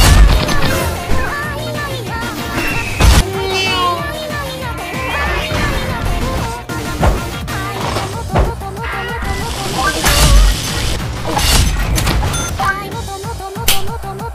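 Loud video game combat with rocket launcher blasts, crashes and impacts, layered over dense game sound and music with no quiet gaps.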